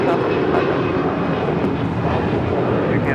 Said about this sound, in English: That was Air Canada 790 departing to Toronto on an A321